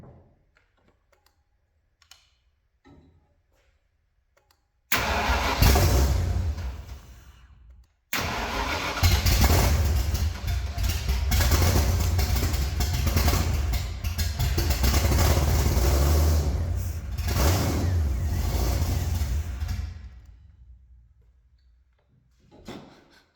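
An abandoned supercharged 1965 Ford engine cranks and catches, cuts out briefly, then restarts and runs roughly for about twelve seconds before dying away, loud and close with a deep rumbling idle.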